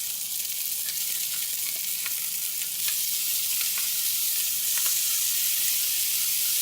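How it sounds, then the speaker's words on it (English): Beef sears in olive oil among fried rice crisping in the pan, a loud, steady close-up sizzle with scattered small pops and crackles throughout, no talking. "As our beef is searing and cooking, our rice is getting crispy."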